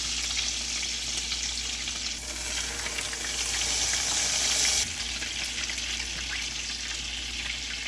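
Egg-dipped bread frying in olive oil over low heat for crispy toast, a loud, dense, continuous sizzle with a steady crackling hiss that holds evenly from start to finish, close up and alone.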